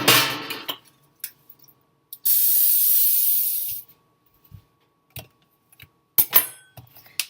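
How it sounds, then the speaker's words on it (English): Pam cooking spray hisses onto a metal cookie sheet in one steady burst of about a second and a half, close and loud, with small clinks and taps before and after in an otherwise quiet kitchen. "take our cookie sheet and just spray it with your Pam"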